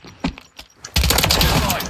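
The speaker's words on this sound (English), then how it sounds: "Oh, he's shooting at somebody." Rapid gunfire in Modern Warfare III, a short burst of shots after a few scattered sharp clicks, fairly close and alone without speech.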